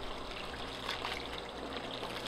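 Spring water trickles steadily at a bushcraft camp beside a yellow birch, a soft continuous burble and splash, fairly close and quiet.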